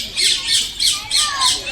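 A bald eagle at Alipore Zoo in Kolkata gives about five shrill, rhythmic squawks in quick succession, loud and fairly close, with people talking nearby.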